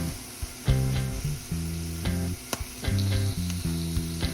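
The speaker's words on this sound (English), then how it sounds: "Let's get sizzling." Habanero and bhut jolokia ghost peppers with ginger hitting a hot pan, bursts of crackling sizzle and spatter coming in uneven pulses, close and fairly quiet, with no voices.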